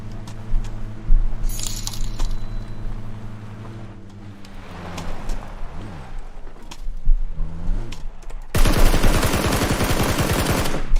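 Gunfire in a battle royale video game, rapid bursts of shots over a droning engine-like hum, ending in a dense, loud sustained volley.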